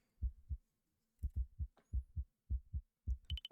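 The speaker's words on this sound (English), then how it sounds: "I hear a heartbeat." Heartbeat in a horror video game, a slow, muffled double thump repeating steadily in near silence, with a brief high tone near the end.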